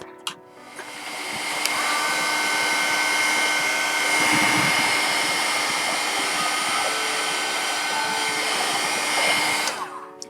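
A heat tool blasts hot air onto ink on an altered Japanese fan, making a continuous close whooshing roar that clicks on, runs steadily for about nine seconds and cuts off.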